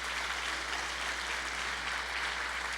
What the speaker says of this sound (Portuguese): Então dá uma salva de palmas aí bem forte para Jesus